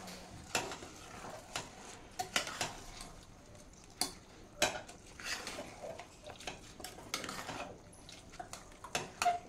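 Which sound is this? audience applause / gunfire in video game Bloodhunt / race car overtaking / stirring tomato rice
stirring tomato rice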